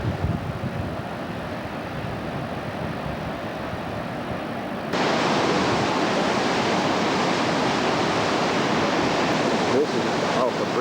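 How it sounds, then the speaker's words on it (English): Huka Falls near Lake Taupo in New Zealand, a dense, continuous roar of rushing water heard from nearby, rising noticeably louder partway through, with some wind buffeting on the microphone. "this is Harker Falls"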